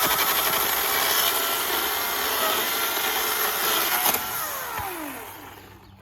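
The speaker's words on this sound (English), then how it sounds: "this is just a regular chainsaw. It's just battery operated" A battery-operated chainsaw bites through wood with a steady, loud rasping buzz, then the cut finishes and the motor winds down and fades over the last second or two.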